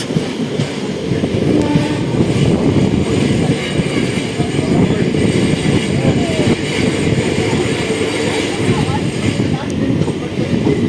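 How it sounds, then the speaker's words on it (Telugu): The Venkatadri Express runs loud and close through Chittoor station, a continuous rumble and rattle of carriages that lasts throughout, with faint horn tones above it. "ఇదిగోండి చిత్తూరు వెంకటాద్రి ఎక్స్ప్రెస్"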